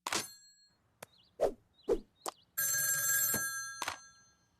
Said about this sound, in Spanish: Mina, el teléfono rojo.